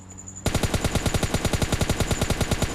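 Automatic gunfire in PUBG Mobile Lite starting abruptly, a loud, steady rapid burst of evenly spaced shots close up, with nothing else over it.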